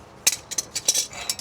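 Metal washers clink together as they are handled during a car teardown, giving a quick series of light, bright metallic ticks, close and fairly quiet, with no talking.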